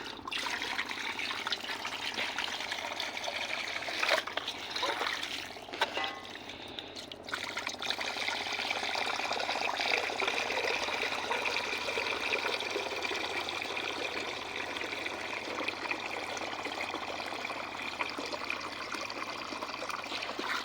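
Water pours steadily in a continuous splashing stream for making tea, in a Himalayan field in North Sikkim, close and fairly loud, with a brief clatter early on and no talking.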